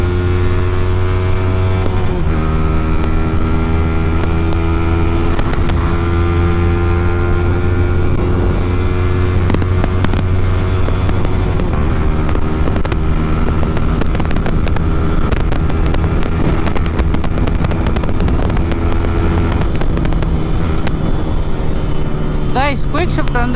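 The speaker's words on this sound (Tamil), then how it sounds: "உங்களுக்கு ஒரு பாப்ஸ் கேட்குதுன்னு நினைக்கிறேன்." Yamaha R15 motorcycle with a quickshifter, riding at speed: a loud, close engine drone that climbs through the gears with brief shift dips, plus scattered crackles of exhaust pops and wind roar.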